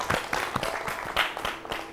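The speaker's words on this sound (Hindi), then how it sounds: "जोरदार तालियां एक बार फिर।" An audience at an agricultural women's awards show applauds to welcome the judges, with loose, uneven clapping that swells and dips over two seconds at moderate loudness.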